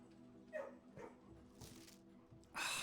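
Dog in the Blue Prince video game, a few short, quiet barks and yips spaced apart, ending with a brighter burst of noise.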